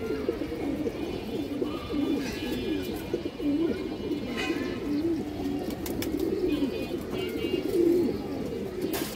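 Flock of pigeons, including green-necked and khaki breeds kept for sale, cooing in a dense, continuous overlapping chorus at close range, steady throughout with no talking.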